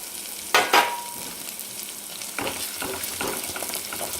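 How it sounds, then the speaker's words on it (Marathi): Red chili powder and a pinch of turmeric fry in hot oil for a chicken curry, a steady close sizzle broken by a few loud spoon scrapes and stirring bursts; no speech. "आणि छान तळून घ्यायचं याला सुगंध आला पाहिजे खमंग असा"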